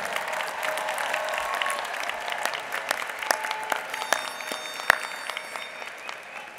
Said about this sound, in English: Let's give a round of applause for our Master of Public Administration 2015 graduates.